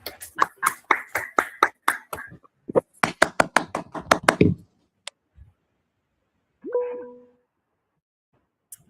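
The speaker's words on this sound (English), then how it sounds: "A round of applause for our director, Madam Mpo." Applause for a speaker at the close of an online webinar: a run of sharp, close claps for about four seconds, then silence broken by a single short electronic tone.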